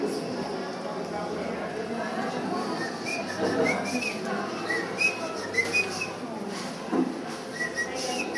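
A man whistles short rising bird-like phrases, imitating birds singing for rain, repeated several times at a moderate level over steady background murmur and outdoor noise.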